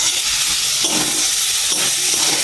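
Chopped tomatoes hit hot oil in a pan and set off a loud, steady hiss of sizzling and steam up close, with two brief surges and no talking.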